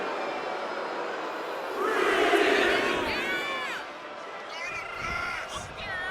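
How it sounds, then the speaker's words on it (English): Arena crowd in a WWE 2K25 women's wrestling match swelling into loud cheers and shouts, then easing back to a steady roar with scattered whoops. "Jakara Jackson rallying the crowd behind her."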